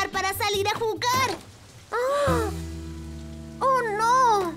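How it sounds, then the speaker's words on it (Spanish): Cartoon rain begins falling as a steady soft wash, heard between and under children's dialogue, with musical tones entering partway through. "¡Oh, oh no! ¡Está lloviendo!"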